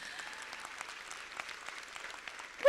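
Audience applause at a hospital burns unit gathering, a faint scatter of clapping that runs steadily for a few seconds before a louder sound cuts in at the end.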